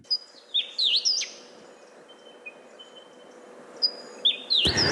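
Songs of endangered Australian bird species ring out as sharp, clear whistled chirps and swooping calls in short bursts at the start and end, over a quiet, faintly hissing background with no talking.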